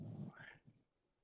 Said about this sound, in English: I think I got a good meow into the microphone that time.